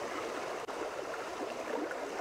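The Ilm river rushes steadily around someone standing in the water, a faint, even broadband flow with one brief dip.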